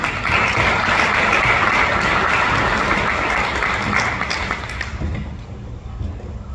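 Audience applause at a French-speaking business gathering for a speaker, dense sustained clapping that fades slightly toward the end.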